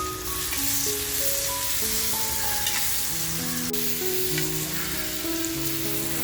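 Onion fries in oil in a pan, a loud, steady close sizzle with occasional stirring clicks, while background music plays throughout.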